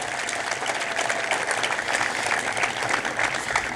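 A crowd applauds at an outdoor statue unveiling ceremony at a softball field, a steady dense wash of clapping that holds throughout, moderately loud and spread wide.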